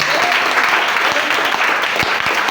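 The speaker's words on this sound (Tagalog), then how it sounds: "Palakpak para sa Ginoo." A church congregation applauds during a sermon, producing loud, close, dense clapping with a few sharper individual claps and faint voices mixed into the crowd.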